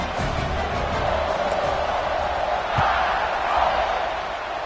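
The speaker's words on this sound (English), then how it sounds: "this crowd is buzzing after that last score" A football stadium crowd keeps up a dense, steady roar after a touchdown, loud and continuous throughout with no pauses. A brief thump and a slight swell in the cheering are heard partway through.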